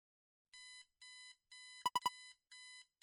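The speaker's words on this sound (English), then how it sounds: "Those beeps are a little loud." Alarm clock in an RPG Maker video game sounding a loud repeating electronic beep pattern, evenly spaced tone bursts with a quick triple chirp in the middle, alone without talk.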